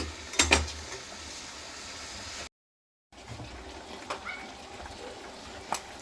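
Jaggery going into a pan of raw mango for pickle and being stirred, with close scraping and clinking of a utensil against the pan, a sharp knock early on, a brief silent gap, then softer intermittent stirring.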